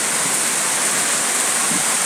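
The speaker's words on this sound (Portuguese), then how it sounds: "Muita chuva." A heavy downpour roars continuously, a dense, even wash of falling water close by a house and its rooftop slab, with no voices.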